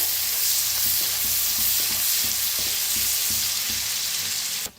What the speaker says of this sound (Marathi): आता खडे मसाले चांगलं भाजलेले आहे, त्याच्यातच टाकूया कांदा। कांदा भी चांगला भाजून घ्यायचा।